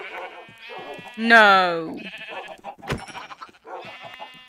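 A pink sheep in a video game lets out one clear, loud, wavering bleat among quieter game sounds and a sharp click, with a person speaking briefly.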